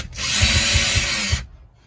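Interior trim being pulled from a truck cab, one continuous loud scraping, rubbing rip lasting over a second with low knocks underneath, close up, then stopping abruptly.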